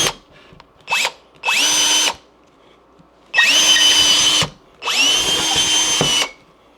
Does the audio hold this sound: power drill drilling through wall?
yes